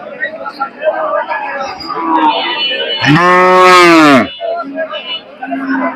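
A Friesian cross cow gives one loud, long, close moo at a busy cattle market, with people talking and bargaining all around it before and after.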